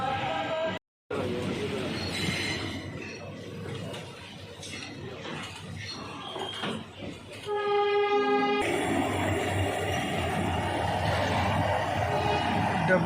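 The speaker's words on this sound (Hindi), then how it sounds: "मुरादाबाद जंक्शन से निकलती हुई कॉर्बेट पार्क लिंक एक्सप्रेस" The Corbett Park Link Express pulls out of Moradabad Junction with loud rumbling wagons, rattling wheels and a sustained horn blast, the train close by as a voice speaks over the station noise.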